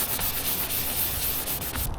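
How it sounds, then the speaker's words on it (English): Continuous wet sanding of gel coat on a boat transom, a steady close-up scrubbing rasp with a rhythmic back-and-forth swish, loud and uninterrupted, no voices. "we're gonna wet sand and we're gonna buff the transom"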